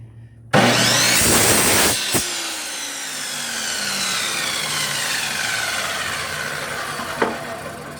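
A cutting tool working through a PVC pipe at home: loud continuous rasping with a brief break and a sharp click near the start, then a long steady cut that fades slightly, no talk.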